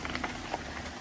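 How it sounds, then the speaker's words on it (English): Steady rain falls outdoors by a barley field on a farm, a broad even patter with scattered drop taps, moderate and continuous with no talk. "it's started to rain proper now"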